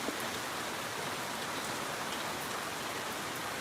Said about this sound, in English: I just love the sound of the rain.